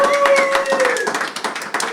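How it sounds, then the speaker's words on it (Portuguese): Conference team at a church event applauding, a dense patter of clapping with a sustained tonal sound over it, moderately loud and continuous for about two seconds. "se o pessoal da equipe puder aplaudir aqui"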